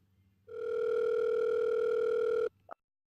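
A steady telephone dial tone hums loud and unbroken for about two seconds, then cuts off abruptly, followed by a brief faint click, with no talking.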